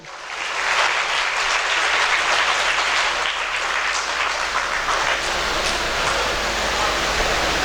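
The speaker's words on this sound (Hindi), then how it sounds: "उनके लिए ज़ोरदार तालियां जो है।" Loud, dense applause from an audience at an academy felicitation ceremony, a sustained roar of many hands clapping close and steady throughout.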